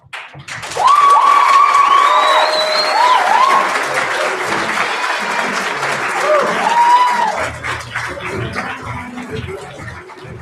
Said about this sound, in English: Keep those applause going for Westside and all the poets.